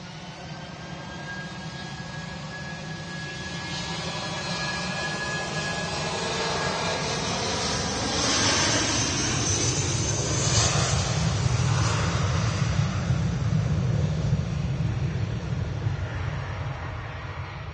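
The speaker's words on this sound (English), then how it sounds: "Eurowings A380 is back off to Düsseldorf." A Eurowings A380 airliner departs Manchester Airport, its jet engines a broad, steady roar that swells slightly as it climbs away, with no talk over it.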